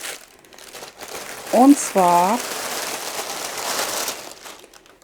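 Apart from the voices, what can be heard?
crinkling rustle of a cloth being handled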